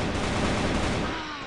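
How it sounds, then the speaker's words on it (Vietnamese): AK rifle fired on full auto in the mobile shooter CF Mobile, a short, loud, dense burst of rapid shots that tails off toward the end, with no talking. "Cái khẩu AK này sấy nó đạn đi."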